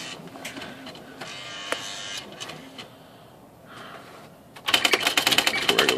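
An electric typewriter whirs and clicks with scattered mechanical knocks, then breaks into a rapid, loud burst of evenly spaced strikes.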